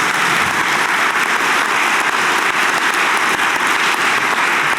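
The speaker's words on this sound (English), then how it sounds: "you can clap for that" A college convocation audience at a reunion breaks into loud, continuous applause, a thick steady roar of many hands clapping that never lets up.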